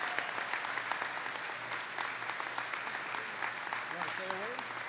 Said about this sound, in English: would you all give a big round of applause to Lexi Heitzman for the job she's doing here